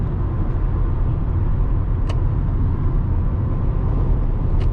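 Steady low road and engine rumble inside the cabin of a 2023 Toyota RAV4 on the move, a constant droning hum with no music, a couple of faint brief ticks over it.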